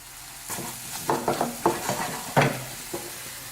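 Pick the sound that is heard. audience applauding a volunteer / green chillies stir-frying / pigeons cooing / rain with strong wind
green chillies stir-frying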